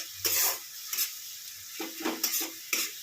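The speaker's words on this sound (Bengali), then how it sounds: "এখন এই টমেটোটা একটুখানি মজে যাবে, ওই জন্য একটু নুন দিয়ে দিলাম। দিয়ে এটাকে ভালো করে কষাবো।" Tomatoes with salt are being sautéed in a pan at home, with a soft sizzle and several scraping stirs of a utensil against the pan that come in short, uneven bursts close by.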